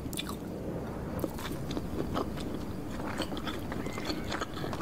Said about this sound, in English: That's like the juiciest, sloppiest, wettest burger eating sound I have ever heard.